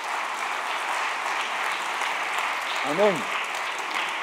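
A church congregation applauding during a sermon, dense steady clapping throughout with a voice briefly calling out over it.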